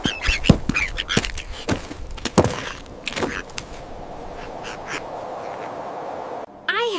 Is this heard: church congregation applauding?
no